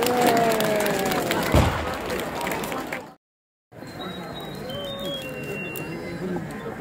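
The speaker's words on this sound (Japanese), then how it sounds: "拍手。" An outdoor crowd applauds at the 2017 Teppo Matsuri gun festival at Iida Hachiman Shrine in Ogano, clapping over a talking announcer, then cutting to a brief silence before resuming more softly.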